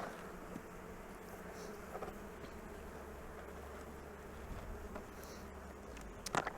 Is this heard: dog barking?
no